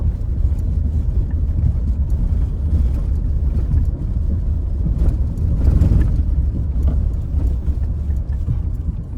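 A car jolts over a broken mountain road between Manali and Sethan in Himachal, heard from inside as a continuous loud, rough rumble with bumps and rattles.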